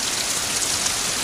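Steady heavy rain pours down during a summer thunderstorm spell, a dense even hiss of drops on surfaces filling the short stretch, loud and close, with no thunder clap standing out.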